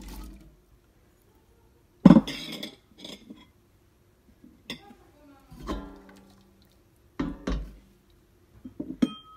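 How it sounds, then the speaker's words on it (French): Potatoes dropped into a tajine pot simmering with almost-cooked meat and white beans for a Moroccan stew, heard as several separate clattering, splashing bursts with pauses between them, close and fairly loud. "Je vais rajouter les pommes de terre"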